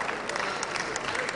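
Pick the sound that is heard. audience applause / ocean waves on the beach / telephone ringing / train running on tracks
audience applause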